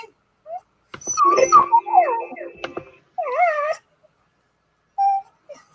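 A dog whimpers and yips in short, high, wavering bursts with quiet gaps between them, close to the listener, heard clearly with no talking.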